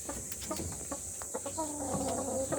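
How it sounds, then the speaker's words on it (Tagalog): A native chicken rooster crossbred with Rhode Island Dark Mahogany clucks and calls in short, repeated bursts close by, over a steady farmyard background with no talking. "Yan yung rooster natin."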